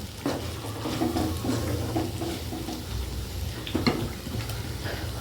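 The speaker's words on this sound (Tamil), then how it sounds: "உருளைக்கிழங்கு ஃப்ரை மாதிரி இல்லை, கொஞ்சமாக எண்ணெய் விட்டு ஸ்டிர் ஃப்ரை மாதிரி ரெடி பண்ணிகிட்ருக்கேன்" Potatoes stir-frying in a little oil in a home kitchen pan, a steady soft sizzle with repeated stirring scrapes and light utensil clinks throughout, fairly close and without voices.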